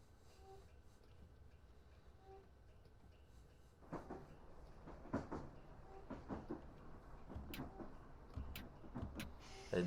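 Train brakes are reapplied on a London to Brighton City Flyer service in a train simulator game: after a quiet low hum, a series of hissing air releases and clunks sound close by, getting busier and louder toward the end.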